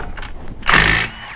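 A power tool breaks loose a control arm bolt on a GMC Yukon or Chevy Tahoe: one short, loud mechanical whirring burst lasting under half a second, close by, after a few faint clicks.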